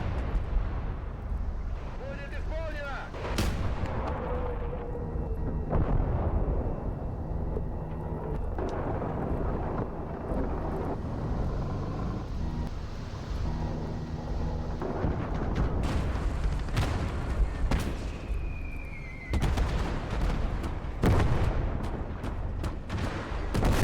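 A field gun fires repeatedly on a World War II Eastern Front battlefield in Call to Arms: Gates of Hell, heavy booms and rumbling blasts scattered through a dense backdrop of battle noise, with someone talking over it.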